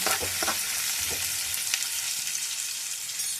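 Sliced onions and ginger-garlic paste fry in hot oil for an Andhra-style gongura mutton curry, giving a steady, close sizzle with a few soft stirring knocks near the start.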